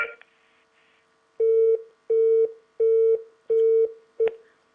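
Steady telephone line tone after a live TV call-in caller drops, five evenly spaced beeps about half a second each, clear and alone with no talking.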